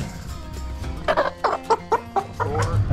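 Chickens cluck in short, choppy bursts over a low background hum, several birds close by, with no talking.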